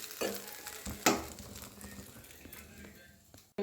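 Dried fish fry being stirred in a pan, with a quiet sizzle under a few distinct spatula scrapes and taps against the pan, close up with no speech.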